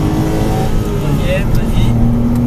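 Porsche Cayman S accelerating progressively on a race circuit, a loud steady engine drone heard from inside the cabin, with voices talking over it.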